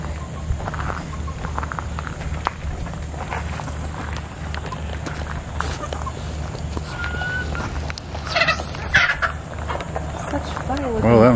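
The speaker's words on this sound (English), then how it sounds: "Silky chickens." Silkie chickens at a petting zoo in Hot Springs cluck softly and intermittently nearby, while people talk over them.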